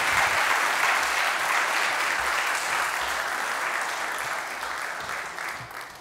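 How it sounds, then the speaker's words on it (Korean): A church congregation at a Sunday worship service applauds warmly, a thick, continuous wash of clapping that holds steady and slowly tapers off. "우리 다시 한번 큰 박수 부탁드리겠습니다"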